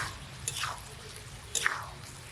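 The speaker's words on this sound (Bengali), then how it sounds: "নেড়ে চেড়ে বেশ কিছু সময় কষিয়ে নেব।" Two soft, wet squishing sweeps a second apart as spice paste is stirred and fried in a pan for a small fish curry, quiet against a low kitchen background.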